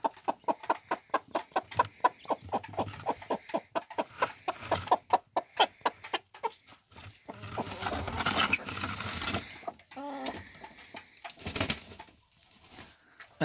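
A Gurk breed broody hen clucks among her newly hatched chicks, a steady run of close, rhythmic clucks followed by softer, busier rustling and chick peeps toward the end.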